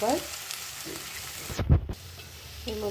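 A cabbage and rice mixture fries in a pan with a low continuous sizzle, broken midway by a heavy thump or scrape of the utensil, while a voice speaks briefly at the start and the end.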